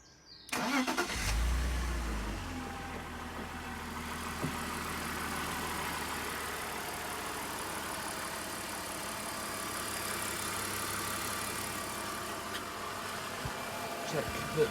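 A BMW E46 3 Series petrol engine cranks and fires after an oil change, then settles into a steady, even idle that runs on close by for over ten seconds.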